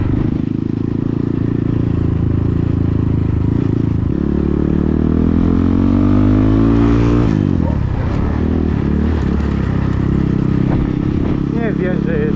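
A newly bought motorcycle revs loudly and close by, its engine pitch climbing and then falling away, with some clatter and a voice talking over it.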